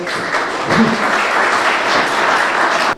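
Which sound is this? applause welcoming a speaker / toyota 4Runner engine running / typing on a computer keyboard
applause welcoming a speaker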